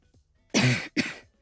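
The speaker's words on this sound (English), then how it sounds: "It's like I'm randomly coughing" Two quick, harsh coughs come close together, loud and near, with no talking.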